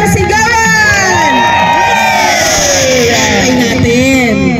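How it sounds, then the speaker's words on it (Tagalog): Live audience at an indoor association meeting and oath-taking ceremony breaks into a loud, sustained wave of cheering, whooping and shouting from a large crowd, steady throughout with many overlapping voices. "Palakpak na may kasamang sigawan."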